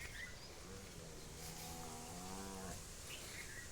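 Faint and distant, cattle give a long low moo against steady outdoor background noise, with no voices present.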